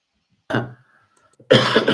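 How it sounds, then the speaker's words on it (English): A single sharp cough sounds close by, followed after a brief pause by another harsh burst of coughing. "Sorry, I'm having a little cough."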